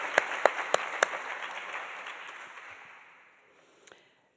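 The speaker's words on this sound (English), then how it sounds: "I would like to give you another round of applause" Audience applause at a physical therapy white coat ceremony, a few sharp nearby claps over a steady patter that fades out over about three seconds, ending with a couple of stray claps.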